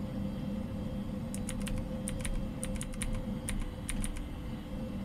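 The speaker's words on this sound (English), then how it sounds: "I'm so good at typing." Keyboard typing inside the Fears to Fathom horror game, a quick run of crisp clicking keystrokes in irregular bursts over a steady low background hum, with no talking.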